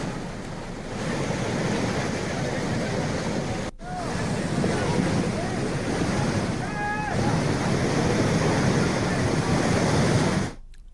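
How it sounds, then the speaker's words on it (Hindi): A monsoon-swollen seasonal stream near a mountain road in Chamoli, Uttarakhand, rushing in a steady, loud broadband roar with wind buffeting the microphone, continuous and close throughout. "भलौन के पास बरसाती नाला उफान पर आ गया"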